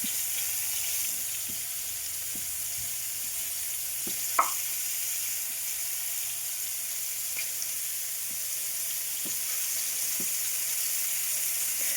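Steady sizzling and crackling of tiger prawns frying in a hot pan, a continuous hiss with occasional small pops, fairly close and moderately loud.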